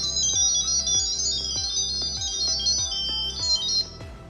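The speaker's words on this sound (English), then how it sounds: "That's my phone making that noise." A phone gives off a repeating electronic tone while connecting a light socket security camera to Wi-Fi, a bright warbling pattern pulsing in regular beats for a few seconds before stopping.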